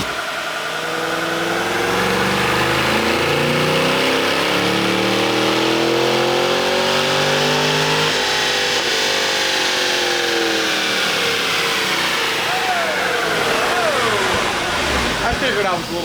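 Chevy SS V8 fitted with new headers revving, its pitch rising and falling in long sweeping pulls over a steady loud rumble, close to the mic, with people talking faintly in the background.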